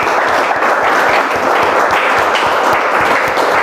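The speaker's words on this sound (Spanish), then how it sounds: "Démosle un aplauso al Señor." Congregation in a church clapping together in a loud, continuous burst of applause, close and steady, with no talking over it.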